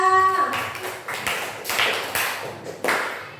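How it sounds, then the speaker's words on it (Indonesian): A classroom of students claps for a pupil named Novita, a dense burst of hand claps that thins into scattered, uneven claps toward the end, with no talk over it. "Tepuk tangan untuk Novita"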